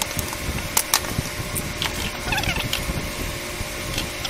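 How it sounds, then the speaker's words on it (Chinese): Screws being backed out of the handle of a Husqvarna 240E chainsaw during teardown, a close run of small metallic creaks, clicks and rattles with a few sharper taps, no voices. "那我们先把这个螺丝拆下来"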